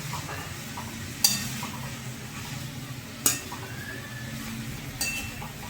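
Tomato ketchup simmering with spices in a pan, a soft steady sizzle and bubbling throughout with three sharp spoon knocks against the pan at intervals, no talking.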